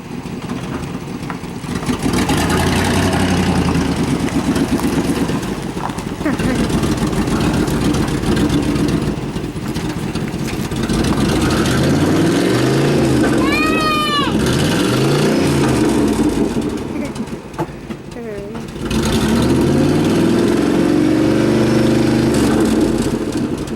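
The engine of a 1997 Chevrolet Suburban runs after an engine swap, idling and revving loudly and close by, with rising and falling pitch through several revs.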